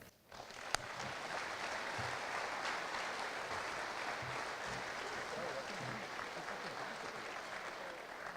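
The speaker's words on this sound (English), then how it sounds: "Please join me in giving Kim and the awards recipients a warm round of applause." Audience applause at an annual chamber awards ceremony swells after a sharp opening clap and holds as a dense, even roar for several seconds.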